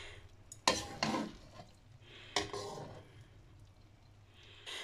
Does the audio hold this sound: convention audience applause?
no